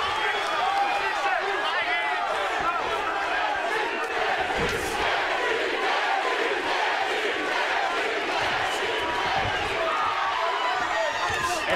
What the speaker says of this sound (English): And they're cheering for Gaethje,